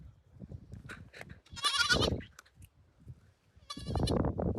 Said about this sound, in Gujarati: હજી એક બકરી આવી છે